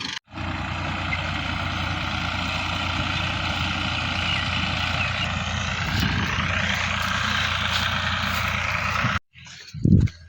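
A tractor engine runs at a steady idle, a close, droning mechanical rumble that holds constant for most of the stretch before cutting off abruptly, followed by a brief knock near the end.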